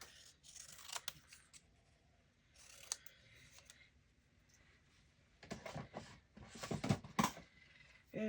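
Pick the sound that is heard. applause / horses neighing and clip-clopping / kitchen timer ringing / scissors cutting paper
scissors cutting paper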